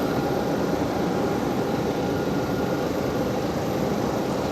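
Aircraft noise at Palma airport in Mallorca right after landing, a loud continuous engine roar and rush of air, steady throughout with no talk.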